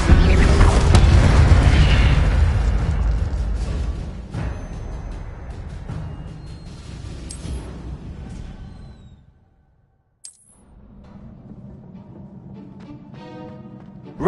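Incendio fire spell cast in Hogwarts Legacy, a loud fiery boom and whoosh that fades over several seconds into quieter mechanical rumbling, followed by brief silence and a small pop.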